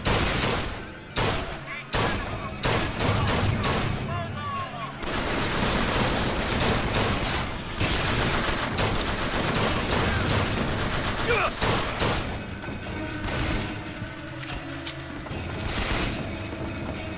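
Rapid bursts of gunfire in BioShock Infinite crackle and boom repeatedly over a busy background, with voices talking throughout.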